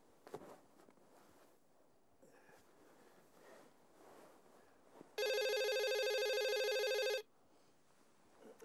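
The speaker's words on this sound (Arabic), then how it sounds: "يا اخوانا حد يرد على التليفون" A telephone rings once in a long, loud, steady electronic burst indoors, with faint footsteps and room noise before and after.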